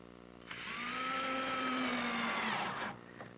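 A power screwdriver whines steadily for about two and a half seconds while driving screws into a sailboat deck panel, a single continuous run with a rising pitch, close and fairly loud.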